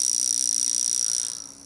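Vulcain Cricket mechanical alarm wristwatch buzzing loudly and close, a continuous rapid rattling drone with a high whine that fades toward the end.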